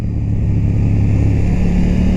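A KTM Duke 890 R motorcycle engine running loud and close, a dense continuous roar with a steady low throb and no talk.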